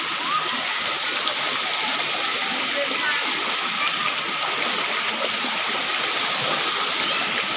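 Cold river water rushes and splashes steadily around people wading across a provincial river, forming a loud, continuous wash of flowing water with faint voices underneath.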